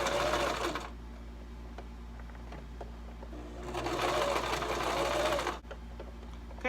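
A Brother LS2400 sewing machine stitches through thick layered fabric of a face mask, a steady whirring motor run that pauses briefly and then resumes, close and fairly loud with no talking.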